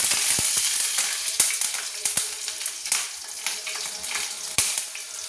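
Panch phoron and green chilies sizzling in hot oil, a soft crackling fry punctuated by sharp pops and spits from the spices, quiet and close.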